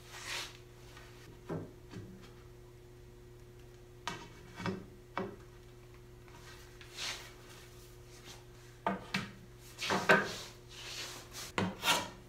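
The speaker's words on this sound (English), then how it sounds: "Just beveling the front edges here." Hand-tool woodworking while bevelling the front edges of a sideboard rail: intermittent rasping, rubbing strokes on wood, quiet and close, with pauses between short bursts and a steady low hum underneath.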